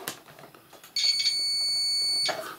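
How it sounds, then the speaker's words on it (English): Steady electronic continuity beep from a digital multimeter testing a soldered plug connection on a simple antenna, lasting about a second and a half, loud and alone after faint background noise. "We've got a beep."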